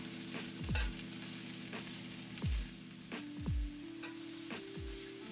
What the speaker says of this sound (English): Then I'm going to add in the chopped garlic cloves and let that cook for another minute.